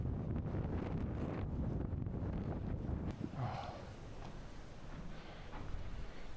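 Strong wind buffets a coastal hillside near an old World War II tracking hut, roaring as loud, continuous low rumbling microphone gusts that ease slightly partway through, with no voices.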